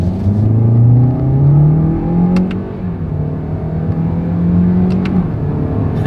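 A 2024 Toyota Corolla Hatchback accelerates hard using its paddle shifters, the engine rising loud and near in pitch, dropping briefly at each shift, then climbing again.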